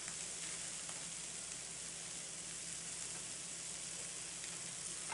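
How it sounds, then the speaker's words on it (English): Spinach cooking down in a pan gives a steady, even sizzle that hisses on without a break, close and fairly soft, with no voices. "So I just need to let my spinach cook down"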